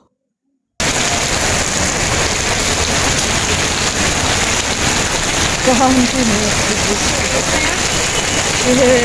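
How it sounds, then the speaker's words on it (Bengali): Heavy rain pouring steadily, a dense loud hiss of drops on surfaces starting abruptly after a short silence, with a faint voice briefly audible underneath. "তাহলে শুনুন আপনারা প্লিজ একটু বৃষ্টির শব্দ"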